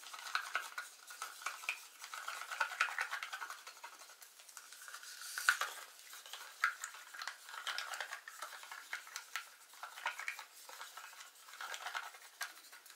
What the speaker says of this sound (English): Now for the American Floetrol, and give that a good stir again.